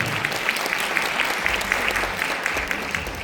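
An audience at a music talk concert in a hall claps to welcome a company representative to the stage, loud continuous applause from start to finish.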